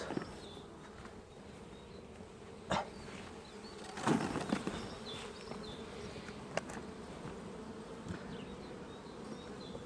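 Honey bees buzzing at a beehive during hive work: a steady, fairly quiet drone of many bees close by, with occasional louder passes and brief knocks over the constant hum.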